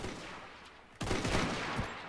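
A volley of rifles firing in the Roblox game Zulu Wars, a quiet stretch followed by a sudden burst of overlapping shots that rolls on as a rattling fusillade.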